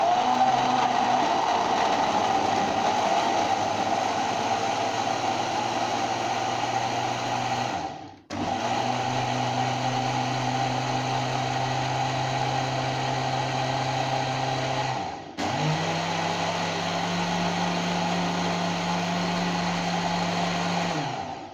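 A blender runs steadily and loudly, blending a strawberry milkshake with fresh cream, in three continuous bursts separated by brief stops, its motor pitch shifting slightly after each restart.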